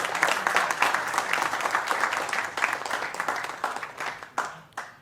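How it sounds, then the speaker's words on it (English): An audience at a software conference talk gives dense, warm applause that gradually thins out, ending with a few scattered individual claps. "Let's give a warm round of applause."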